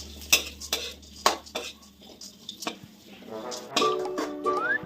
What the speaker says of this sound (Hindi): आप कढ़ाई में एक चम्मच देसी घी और डालें और बारीक कटे हुए बादाम उसमें डाल दें।